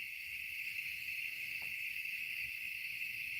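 Crickets chirp in a continuous, high steady trill at night on a farm, faint and unbroken throughout with no voices.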